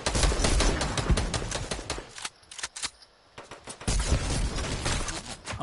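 Rapid gunfire from Fortnite erupts in dense automatic bursts, loud and close, breaks off briefly into a few scattered shots, then resumes in sustained volleys.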